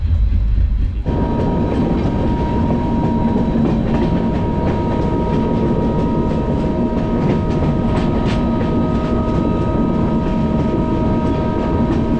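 A Mithila Express train from Howrah to Raxaul rumbles steadily along the tracks, wheels clacking rhythmically under a constant loud roar, heard from on board or very close.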